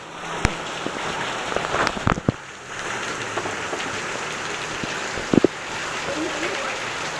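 A downpour of heavy rain rushes in a continuous loud wash, with sharp drips and knocks landing nearby and a brief lull midway.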